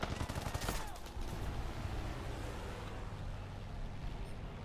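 Fighter plane guns fire in a video game, a dense rattling burst up front that fades into a steady roar of engine and wind.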